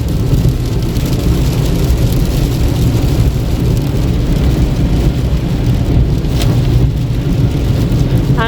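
Heavy rain pounding a car in fog while driving, a dense, loud, continuous roar with deep road and engine rumble underneath and no talk.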